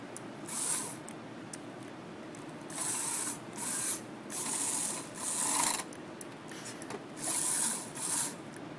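Vex robotics steering mechanism with a steering wheel linked to an axle and side wheels, giving repeated bursts of close ratcheting, grinding plastic clicks over a steady hiss, in uneven pulses across the clip.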